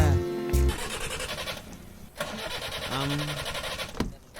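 A car engine cranks and sputters, trying to catch, with a rough mechanical churn under overlapping voices.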